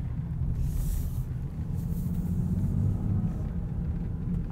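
A 2020 Land Rover Defender 110 SE accelerates from rest, heard from inside the cabin as a deep, steady engine and road rumble that builds slightly, muffled and moderately loud, without talk.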